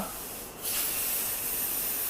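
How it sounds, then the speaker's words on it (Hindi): Steam and gas hissing out of a pressure cooker being vented, a steady broadband rush that swells louder about halfway through and then holds strong until the end, with no voices. "थोड़ी सी हवा और इसकी गैस निकाल देते हैं।"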